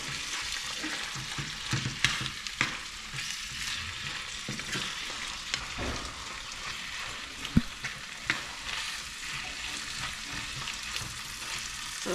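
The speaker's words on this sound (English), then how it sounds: "So we add the saltfish to the natural season and let it cook in a little bit." Saltfish sizzles and fries steadily in a pan with seasoning, a continuous close crackle punctuated by occasional sharper pops and stirring clicks, with no voices.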